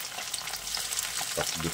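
Vegetables for pakbet fry in a hot pan, a steady broadband sizzle that crackles and spits throughout, with a few louder stirring clatters near the end.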